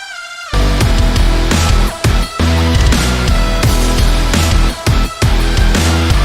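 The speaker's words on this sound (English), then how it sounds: "they played that Doom Eternal song as a joke right now" Loud, dense heavy metal music from the Doom Eternal game soundtrack plays, with pounding rhythmic hits and brief dropouts between driving chugging phrases.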